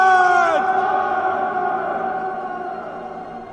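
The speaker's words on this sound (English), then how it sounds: "Again and again, the echoes filled the air." A single shouted voice rings out over a valley, its sustained tone trailing off into a long, fading echo that hangs in the air for several seconds.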